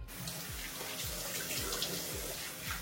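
Water runs steadily from a tap into a sink while someone washes their face, a soft continuous splashing stream heard up close and fairly quiet, with no talking.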